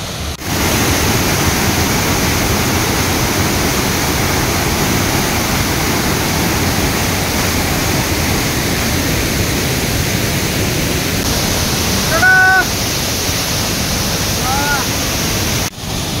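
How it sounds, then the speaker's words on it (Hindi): Sana Ghagara waterfall in Keonjhar, Odisha, rushes in a dense, steady roar heard up close, with a brief bird chirp near the end. "झरणार उच्च स्वर रे कुळुकुळु नाद कान को पूरा मोहि दौची।"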